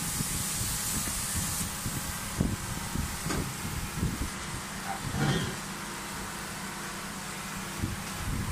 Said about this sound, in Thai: ตอนนี้ช่างก็จะสเปรย์ขยายฟิล์มนะครับก็คือเป็นสเปรย์เคมีที่ทำการพ่นอยู่บนเหนือฟิล์มเพื่อทำการยึดเกาะกับชิ้นงานนะครับ